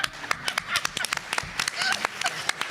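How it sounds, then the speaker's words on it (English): Sparse, scattered claps from a small conference panel audience, individual hand claps heard separately and fairly close, with some murmuring voices. "So everybody give her a clap."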